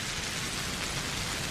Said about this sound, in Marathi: पाऊस, वारा, लाटा त्यांना झोडपतच होतं